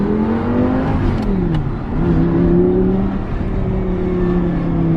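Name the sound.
Audi R8 V10 Plus engine revving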